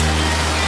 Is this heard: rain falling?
yes